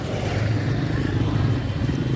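Street traffic with passing cars and motorcycles makes a steady low rumble of engines, continuous and fairly loud, with no clear voices over it.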